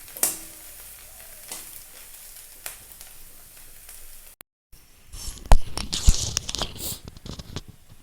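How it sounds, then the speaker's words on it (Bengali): Fried cabbage with egg is scooped from a hot pan into a bowl: a faint sizzle gives way after a short gap to louder close scraping, clinks and crackling scoops in irregular bursts, with no voices. "আর আমি ভাজিটা একটা বাটিতে তুলে নেব।"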